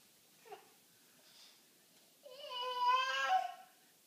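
A cat gives one long, drawn-out meow, close and clear, rising and wavering over about a second and a half after a few faint, brief vocal sounds in an otherwise quiet room.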